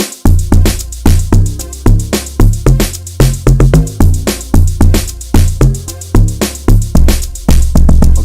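An amapiano log drum pattern plays from FL Studio Mobile. Deep, booming bass notes bounce under dense, punchy percussion and bright hits, loud and continuous with a steady groove.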